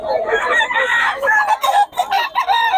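A white Kelso rooster crows loudly and close by, and the crow runs into broken clucking calls. Faint background sounds may sit underneath.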